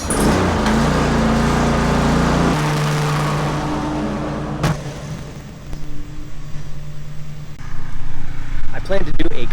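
A Toro TimeMaster 30-inch walk-behind mower engine runs with a steady droning hum that fades and drops partway through, followed by louder, irregular rumbling and knocks near the end.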